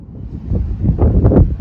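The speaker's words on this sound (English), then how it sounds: "It is incredibly windy, but it's warm." Strong wind buffets the microphone with a steady low rumble that swells louder toward the end, with no voices.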